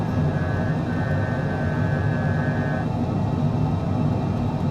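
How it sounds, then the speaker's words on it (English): Steady, loud jet engine roar of a MiG-15 taking off in Microsoft Flight Simulator 2020, with a deep low rumble and a thin high whine, continuous throughout with no voices. "Wheels off the ground, gear up, and flaps up."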